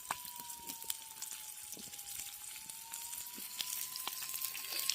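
Tilapia pieces fry in hot oil in an outdoor home kitchen, making a soft, steady sizzle with scattered small crackles and pops throughout.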